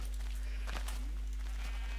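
A sheep bleats once on a sheep farm in a blocky Minecraft-style server game, a short bleat over a constant low hum and faint background noise.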